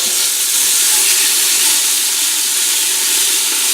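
Meat pieces searing to a golden brown crust in a pan for green chili verde stew, a loud, steady, dense sizzle and hiss throughout with no talking.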